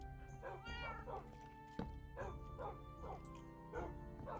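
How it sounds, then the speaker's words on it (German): Several dogs bark in a blocky sandbox world game, with short yips and whimpers repeating in quick bursts over steady background game music, close and clear, with cat-like meows mixed in. "Es sind ein paar Hunde hier."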